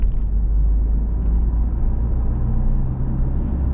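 A car accelerating during a driving lesson on a 70 km/h road, a close steady low engine drone and rumble continuing for a few seconds with no one talking.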